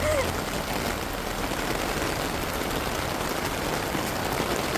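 Heavy rain pours steadily on a strawberry farm in Baguio in a thick, continuous wash of noise, close by and unbroken.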